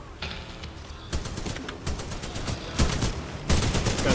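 Rapid gunfire in the video game Titanfall 2, bursts of sharp automatic shots in clusters throughout, loud and close, over a busy background of game effects with no speech.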